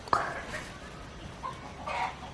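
Chickens cluck nearby in short bursts, one at the start and another near the end, over quiet outdoor background.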